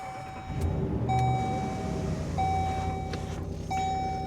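Ram 1500 Laramie pickup with a V8 engine starting up from inside the cabin: a broadband engine rumble rises after a brief pause and settles into a steady idle, with several clear electronic chime tones sounding over it.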